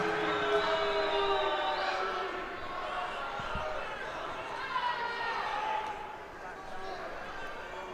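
A home crowd at an indoor soccer match between the Milwaukee Wave and Tacoma Stars voices displeasure at a foul call, a diffuse arena murmur and jeering swelling beneath a commentator talking throughout.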